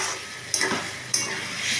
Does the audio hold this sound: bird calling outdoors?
no